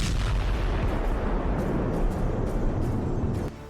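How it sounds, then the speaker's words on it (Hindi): Test detonation of a HIMARS M30A1 rocket warhead packed with steel pellets: a loud, sustained blast roar and rumble lasting over three seconds, then a sudden drop at the end. "देखिए एक टेस्ट के दौरान जब इसके धमाके को रिकॉर्ड किया गया"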